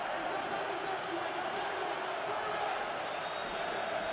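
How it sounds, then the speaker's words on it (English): The home crowd at a PAOK mateco basketball final, a FIBA Europe Cup game, roars after a three-pointer. The dense, sustained cheer fills the arena as a broad wash of noise, heard at a distance and steady throughout. "Huge three-pointer by Rocky. And listen to the Palataki"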